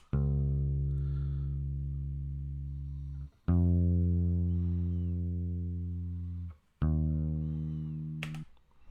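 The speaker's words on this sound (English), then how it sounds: "there's this track called NS bass, and what that is my electric upright bass that I have over there" Electric upright bass soloed on its own, sounding three long sustained low notes with rich harmonics, each ringing several seconds before the next is plucked, loud and close.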